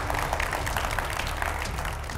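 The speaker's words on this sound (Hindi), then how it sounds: "एक बार जोरदार तालियों के साथ सभी का स्वागत हो जाए" An audience at a Krishna Janmashtami gathering applauds to welcome the panel, a short continuous wash of clapping with a low hum beneath and no clear speech.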